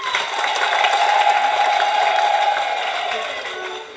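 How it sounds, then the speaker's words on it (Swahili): A church congregation in Igunga parish claps loudly and ululates together, a dense, continuous burst of applause with high trilling voices that tapers off over a few seconds. "Tumshukuru Mungu kwa makofi na vigeregere"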